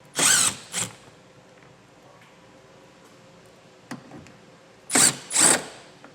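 A power driver spins out T20 Torx screws from the tail light panel of a 2015 Audi, heard as four short whirring bursts: two at the start and two near the end, with a faint tick in between and no talk.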